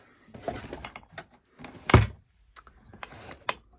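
A craft room drawer slides with soft rustling, then a single solid thunk as it stops, followed by light shuffling of craft supplies inside.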